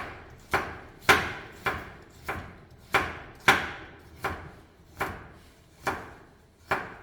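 A knife julienning carrot on a cutting board: eleven or so crisp chopping strokes at a steady, unhurried rhythm, close and clear, with no talking.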